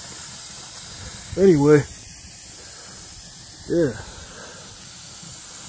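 Coolant in an overheated truck engine steams and boils with a continuous, steady hiss. Two short bits of speech briefly rise above the hiss.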